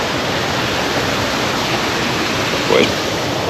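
The flooded River Trent near the entrance to the Chesterfield Canal rushes with a loud, steady broadband roar of fast water, unbroken throughout, with a brief faint voice near the end.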